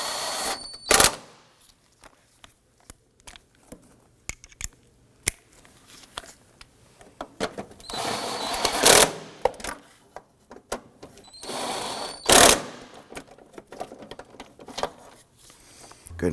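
Transmission mount bolts are tightened on a 2008-2011 Ford Focus, with close metallic ratchet clicks and clanks of tools in irregular bursts and a few sharper knocks between quieter pauses.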